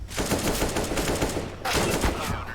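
Rapid, dense gunfire from a double gun in a video game, a continuous loud stream of shots with a brief break partway through before the firing resumes.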